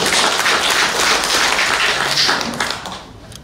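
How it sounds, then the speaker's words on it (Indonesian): A church congregation breaks into loud, dense applause that holds strong for a few seconds, then thins and fades toward the end, with no voice over it. "Sekali lagi kita berikan tepuk tangan untuk kita semua."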